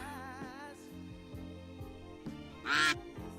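A duck quacks repeatedly in a short, regular series of harsh nasal calls, close and fairly loud, with one sharper, louder honk-like burst near the end and no talking.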